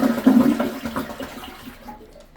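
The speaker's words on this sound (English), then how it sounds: "so I'm going to flush one more time." A toilet tank being flushed during a leaking tank and gasket repair: a gurgling rush of draining water that starts strong and gradually fades over a couple of seconds, close and alone with no speech.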